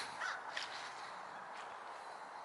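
Crows caw a couple of times in a quiet cemetery, short harsh calls at moderate distance over faint background hiss.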